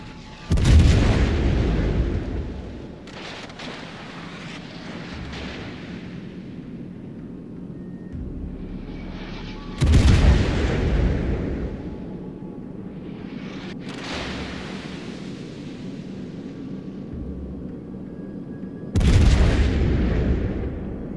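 Bombs and shells exploding on warships in World of Warships come as three heavy, booming blasts at regular intervals, each ringing out into a rumbling tail over a continuous low engine drone and faint crackling in between.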